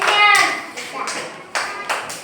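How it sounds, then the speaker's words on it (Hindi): A group of children clap in a classroom, the applause loud and close at first and then fading into a few scattered claps, with children's voices mixed in. "ताली बजा दो तो एकांशु के लिए सब लोग।"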